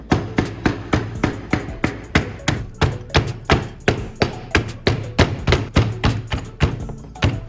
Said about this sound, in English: Now I will start crushing the charcoal into finer particles to improve its effectiveness in removing rust.